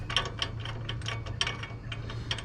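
A ratchet socket wrench clicks in short bursts of rapid pawl ticks while working on a John Deere X570 garden tractor, close and clear over a low steady hum, with no talking.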